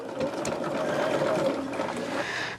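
A sewing machine stitching binding onto a quilt made from Silverstone fabric by Robert Kaufman, running in a steady close whir for a couple of seconds before stopping.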